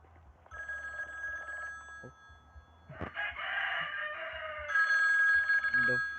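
A telephone rings inside a horror video game, its bell-like electronic trill sounding in several bursts alongside other game noises, with a brief voice heard between them.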